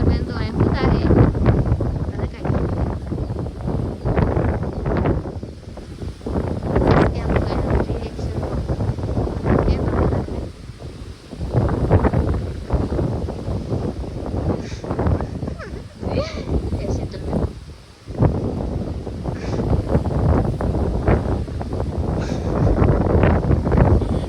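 Strong wind gusting outdoors at a village home, buffeting the microphone with loud, continuous rumbling roars that swell and ease, while people talk under it.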